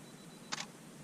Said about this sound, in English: push the shutter actuation, the timer is going to go off and we're going to get an exposure.